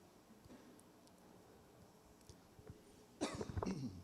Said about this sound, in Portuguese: Já vou me desculpando pela tosse.